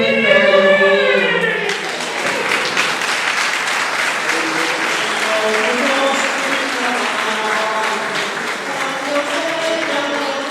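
Applause from the faithful at the San Pellegrino festival in Caltabellotta, a sustained crowd ovation following a sung invocation by the bearers. The clapping continues steadily with singing voices carrying over it.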